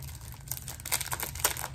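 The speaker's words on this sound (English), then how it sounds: "Let's take it out of the cellophane." Cellophane wrapping being crinkled and peeled away from a metal Yule Ball bookmark with a tassel, brief close crackling rustles in quick irregular bursts.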